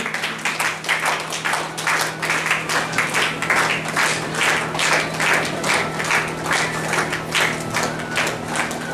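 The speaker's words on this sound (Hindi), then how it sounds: "कृपया तालियां बजाते रहें।" An audience at a Lions club gathering claps loudly and continuously, the many hands settling into a fast, pulsing rhythm that holds steady for the whole stretch.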